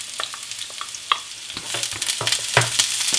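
Onion, courgette and carrot start frying in a pan, quiet scattered crackles at first that build into a louder, busier sizzle with stirring scrapes in the second half.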